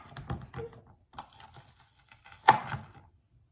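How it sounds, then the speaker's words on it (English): A knife rough-chops celery on a cutting board in quick, uneven taps, close and fairly quiet, with one louder thunk near the end. "That way y'all won't get bored watching me cut this celery."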